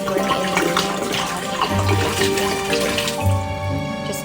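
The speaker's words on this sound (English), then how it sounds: "So add in your water." Water pours steadily into a pot while a simmer pot with cinnamon sticks and orange is being made, a continuous splashing stream heard close up under soft background music.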